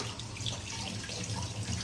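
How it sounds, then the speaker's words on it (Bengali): Water runs steadily from a tap into a sink during face washing, a continuous close splashing rush with no talk over it. "মুখটা ধুয়ে নি"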